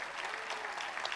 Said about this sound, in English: Y'all clap so the people in Missouri City are awake